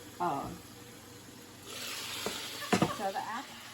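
Apples cooking in a saucepan give off a soft sizzle that builds partway through, joined by a brief stir or clatter near the end, all fairly quiet.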